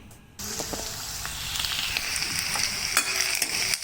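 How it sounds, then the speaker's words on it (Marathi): Onion dropped into hot oil, bursting into a loud, steady sizzle after a brief quiet start, with light stirring under it. "आता या तेलामध्ये मी कांदा फ्राय करून घेईन"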